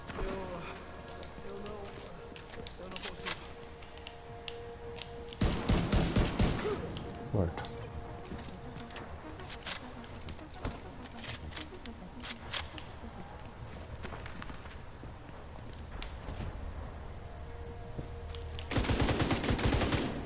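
Gunfire rattles through a match of the shooter The Division 2, with loud sustained automatic bursts near the start and the end, scattered single shots and mechanical clicks in between, and a voice now and then.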